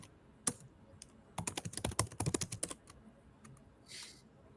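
Computer keyboard typing in a quiet room, a dense burst of quick keystrokes in the middle with a few isolated taps before and after, close and fairly clear with no talking.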